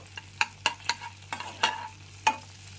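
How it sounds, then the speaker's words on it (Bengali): Chopped garlic frying in melted butter for Indian-style masala macaroni, a soft close sizzle with half a dozen distinct clinks and scrapes of a spoon stirring in the pan. "30 থেকে 40 সেকেন্ড ধরে রসুন কুচিটা হালকা করে ভেজে নেব"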